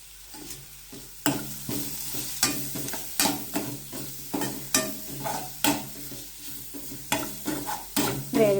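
Onions fry in oil in a pan for an aloo paneer kofta curry, a steady close sizzle broken by repeated scraping stirs at a regular pace, with no voices.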